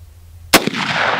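A single loud Winchester Model 64 rifle shot fired outdoors at a target jug, a sharp crack followed by a short echo and a lingering rumble.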